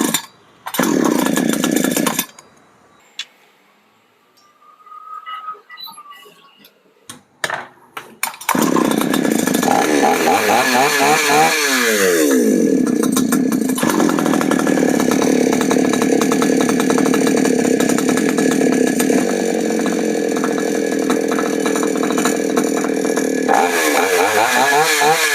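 A chainsaw with a carburetor mixing problem, its slow-speed screw turned up, starts after a few quiet seconds of fiddling, then roars loudly and steadily at close range, its revs wavering slightly.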